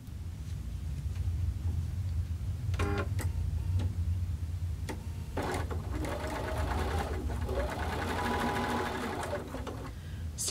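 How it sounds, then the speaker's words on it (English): A sewing machine runs steadily, stitching a curve through felt fabric, with a continuous motor hum and rapid needle ticking that pauses briefly and then resumes. "I'm going to actually stitch the inside of this curve where this larger piece is right here"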